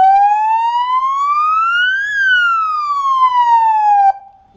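A loud electronic siren from a 100W seven-tone car and truck electric siren in ambulance mode sweeps smoothly up in pitch and then back down in one long wail, close and piercing, cutting off abruptly near the end.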